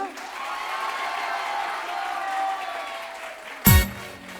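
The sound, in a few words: audience applause for a child's singing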